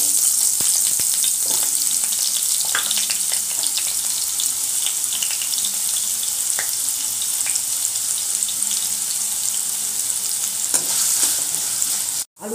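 Vegetables with neem leaves fry hard in a pan in a Bengali kitchen, a loud, continuous close sizzle running throughout with scattered light clinks from stirring.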